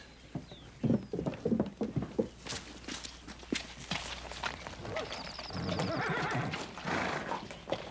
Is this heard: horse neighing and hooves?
yes